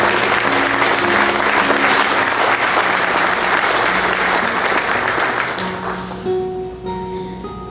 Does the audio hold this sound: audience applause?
yes